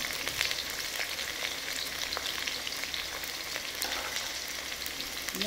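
Egg fried rice with green chillies, beans and carrots being stirred and fried in a hot pan: a steady, close sizzle with scraping stir strokes throughout, no talking.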